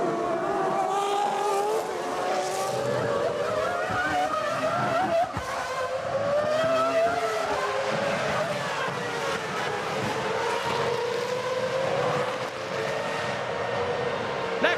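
Formula One cars of the 2001 Italian Grand Prix at Monza race past in a tight pack, a loud, continuous high-pitched engine scream with rising and falling pitch as several cars pass, close and unbroken throughout, with commentary talk faint or absent.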